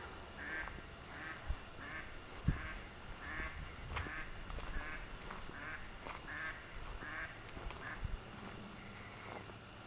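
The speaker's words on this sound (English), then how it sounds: "To see what this duck is screaming about." A nesting duck quacks loudly in a steady series of evenly spaced calls near a pond-side walkway, with a few faint knocks underneath.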